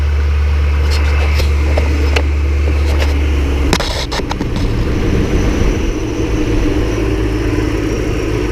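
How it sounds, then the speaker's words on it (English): A BMW engine running with its replaced electric cooling fan spinning, a steady loud rumbling whoosh and drone throughout, with a few brief clicks and knocks near the middle. "And fan is spinning."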